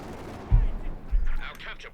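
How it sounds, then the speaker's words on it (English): Pak 40 anti-tank gun fire in the real-time strategy game Company of Heroes 2, heard as two deep, booming shots about half a second apart amid battle noise, with a voice talking faintly in the background. "Pack 40 shoots, misses the Panther 4."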